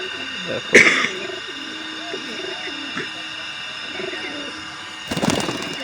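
High-flyer pigeons coo softly in low, rolling murmurs, with a sharp flutter or clap near the start and a burst of noise at the end.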